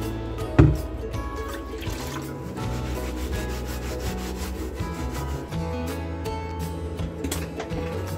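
Foam parts from an MBK 51 moped dashboard get scrubbed clean with soap, a steady close rubbing and scraping with faint wet drips and one brief knock early on.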